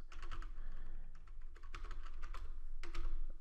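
Rapid, uneven clicking of keys on a computer keyboard as login credentials are typed in, close and fairly quiet, with short pauses between bursts of keystrokes.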